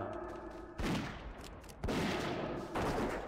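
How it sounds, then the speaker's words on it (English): A dwarf hunter in Classic World of Warcraft fires at a monster, producing three distinct bursts of shooting roughly a second apart that sound fairly close and moderately loud. No one speaks. "We'll probably start shooting him now."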